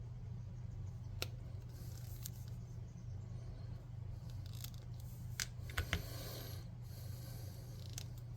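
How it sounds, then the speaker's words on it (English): Clippers snip the arms of a miniature figure, a few sharp, isolated clicks spaced seconds apart over a steady low hum, close and fairly quiet. "So we're just going to snip these a little bit."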